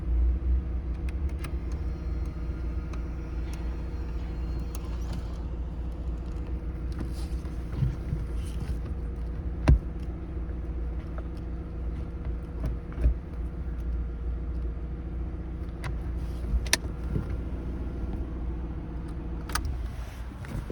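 A 1998 Audi A4 engine idles steadily with a low, even rumble, with a few faint clicks and knocks over it.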